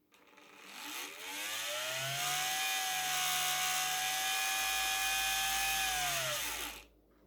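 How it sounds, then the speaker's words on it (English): A Dapol vacuum track cleaner for model railway track, with its fan running, spins up, then holds a steady high-pitched whine with a faint low hum beneath. It cuts off abruptly after about seven seconds. Quiet and alone, with no talk. "But I'll turn it on so you can hear the fan."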